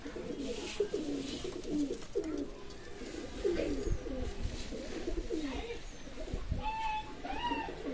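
Pakistani Teddy pigeons coo repeatedly nearby in low, rolling phrases, with a few higher chirps from other birds near the end.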